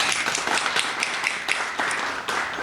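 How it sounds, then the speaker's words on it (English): An audience claps steadily at a library friends group's annual meeting, a brisk, even patter of many hands that lasts throughout without speech over it. "So let's also give her a round of applause."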